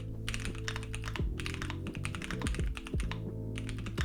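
Rapid clacky keystrokes from a Keychron Q1 Pro mechanical keyboard, dense and continuous, close up with a steady low hum underneath.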